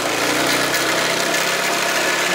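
A motorcycle engine runs on a road trip to Minca near Santa Marta, Colombia, giving a loud, close, steady rumbling drone with no voices over it.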